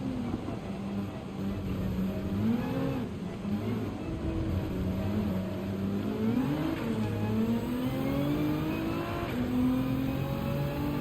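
Nissan GT-R race car engine in Gran Turismo 7 at a wet Spa-Francorchamps, a continuous moderate drone with pitch climbing and dropping through gear changes, heard on its own.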